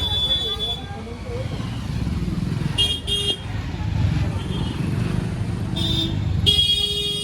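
A motorbike passes through busy street traffic in the Dakor market, engine hum blending with steady road noise and short car horn toots, while people talk over it.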